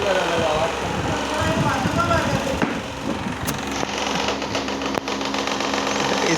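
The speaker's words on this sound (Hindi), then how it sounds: "और ये कूलर अलग आवाज़ कर रहा" Household air cooler with a broken fan blade gives a continuous mechanical whir with a rough, ticking rattle, close and loud, with a person talking over it.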